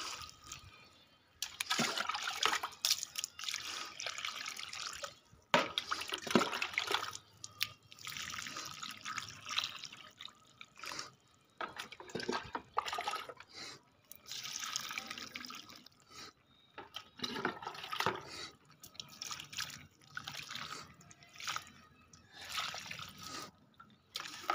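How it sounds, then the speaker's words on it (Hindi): Water poured from a bucket into garden flower pots, several separate splashing pours and trickles in bursts with quiet gaps between, close by, no speech. "फटाफट डाल देते हैं इसमें सारा पानी"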